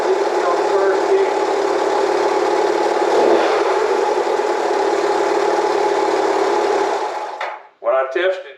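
A Honda CL175 motorcycle with a replaced muffler idles steadily and close for about seven seconds before cutting off, followed by a brief burst of talk.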